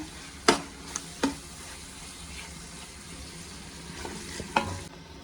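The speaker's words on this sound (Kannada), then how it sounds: "ಚೆನ್ನಾಗಿ ಫ್ರೈ ಮಾಡಿ." Ginger garlic paste fries in a pan for marriage-style chicken biryani, a low steady sizzle marked by a few sharp knocks and scrapes of the spoon against the pan, close and fairly quiet.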